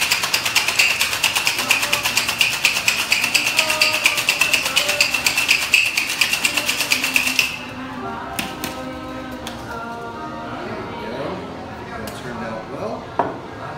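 Ice rattles hard inside a sealed cocktail shaker while a champagne cocktail, a riff on the French 75, is mixed. The shaking is a fast, loud, steady rhythm for about seven seconds, then stops, leaving quieter clinks and background sounds.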